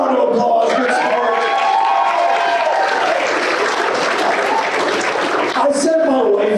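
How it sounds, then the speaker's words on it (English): Comedy club audience in San Antonio breaking into loud, sustained applause mixed with cheering and crowd noise, a voice or two shouting over it, dense clapping filling the room for several seconds before briefly thinning near the end. "Give them a round of applause."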